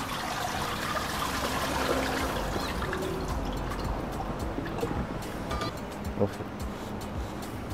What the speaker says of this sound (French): il faut égoutter. Donc on passe à l'évier